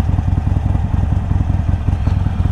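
Harley-Davidson Iron 883 motorcycle idling at a traffic light, a loud, steady low-pitched V-twin loping rhythm with rapid uneven pulses, close up, with no talking.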